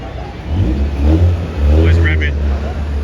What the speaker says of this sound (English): Oh, he's revving.